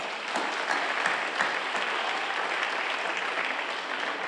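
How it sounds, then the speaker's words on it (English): A school senior awards audience gives a round of applause for the event's behind-the-scenes crew, steady crowd clapping heard from a distance at moderate level, with a few sharper claps early on and no talk. "I would like to acknowledge and give them a round of applause as well"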